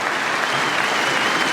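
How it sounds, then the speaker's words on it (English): Cricket crowd applause for Root at an Ashes Test, a dense, even patter of many clapping hands throughout the brief moment. "Well, applause for Root"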